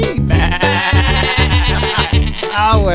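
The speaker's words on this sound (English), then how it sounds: "you get the wool from the sheep" Sheep bleating in a children's farm-animal song, with a repeated wavering bleat set over a busy musical backing of bass and melody, loud and upfront throughout.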